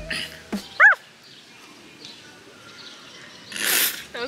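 A person imitates a dog with a single short, high yelping bark outdoors, followed by a brief breathy laugh or hiss, with other people nearby.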